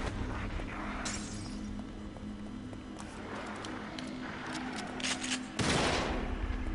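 Enemy gunfire in the horror video game The Evil Within, a burst of sharp shots scattered over a few seconds, ending in a louder crash, with no talking.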